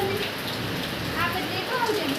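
Heavy rain falls in a steady dense patter on surfaces, a close continuous hiss with faint voices underneath.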